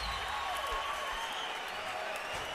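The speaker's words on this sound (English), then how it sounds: "Much of the crowd rising now, standing ovation." Boxing arena crowd at a title fight rising for a standing ovation, steady broad applause and cheering filling the hall, with a commentator's voice over the top.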